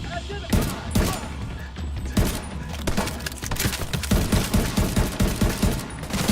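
Sustained close gunfire in the shooter The Division 2, rapid repeated shots in a steady rhythm over a busy combat background, with faint voices underneath.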